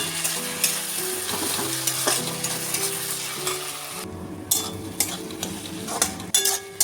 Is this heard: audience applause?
no